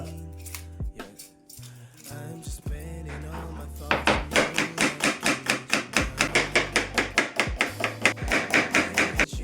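Onion being sliced with a knife on a cutting board for onion pakoda, a rapid, steady run of close, crisp chopping taps that picks up after a few slower cuts, with no talking.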